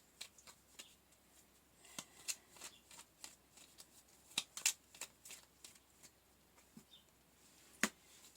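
A deck of tarot cards is shuffled nearby, giving a quiet run of crisp riffling snaps and slaps in an irregular rhythm with a few sharper flicks and no talking.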